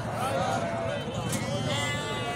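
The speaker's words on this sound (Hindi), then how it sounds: "ये भी राजनपुरी बकरी देखें" Rajanpuri goats and kids on a farm, with a thin, wavering bleat rising over a steady bed of talk and outdoor background noise, fairly close.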